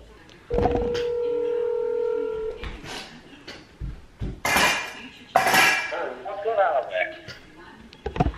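A cellphone gives a short run of electronic dialing tones and beeps, followed by clattering, clicking bursts, with people talking nearby.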